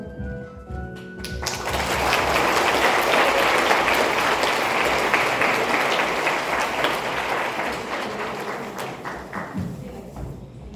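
Loud, sustained applause from a large audience after a panel presentation fills the room, building quickly and holding steady before tapering slightly near the end.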